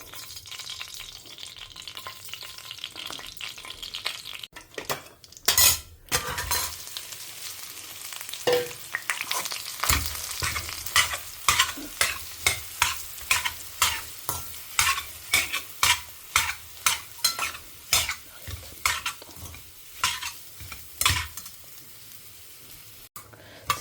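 Mustard seeds and lentils tempering in hot oil, crackling and sizzling while a spoon stirs them in a pan, with rhythmic scraping strokes growing regular and louder in the second half.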